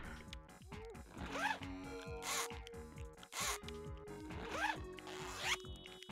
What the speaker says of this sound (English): Interesting zipper noises.